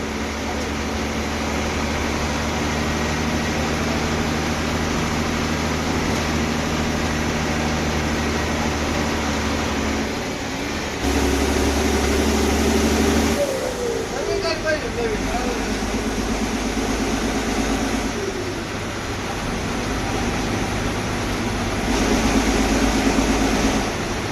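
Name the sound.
MSRTC bus driving from Ahilyanagar to Kalyan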